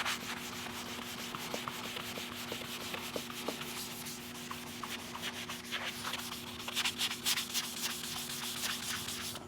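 Car body panel on a replica Testarossa sanded by hand with a 150-grit sanding sponge, steady close scratchy rubbing strokes throughout, growing busier and louder toward the end over a constant low hum.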